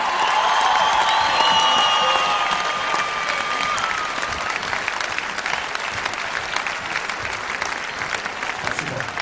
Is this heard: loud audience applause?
yes